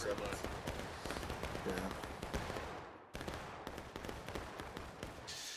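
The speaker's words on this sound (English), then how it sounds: "You got a lot of gunfire going off." Rapid, crackling musket gunshots fire in dense bursts in the Civil War video game War of Rights, a continuous volley of sharp cracks with a voice briefly heard over the shooting.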